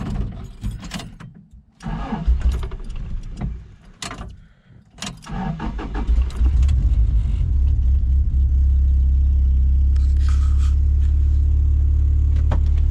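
A few clicks and cranks of a Toyota pickup's 22RE engine after a fuel filter change, then it catches and settles into a loud, steady idle rumble close by.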